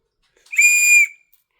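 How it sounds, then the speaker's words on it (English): A high-pitched survival whistle from a neck survival kit sounds in one short, steady, piercing blast, close and loud, standing alone against silence. "it is nothing but a whistle. Just a good, high-pitched,"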